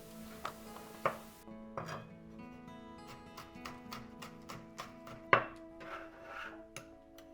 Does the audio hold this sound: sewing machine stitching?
no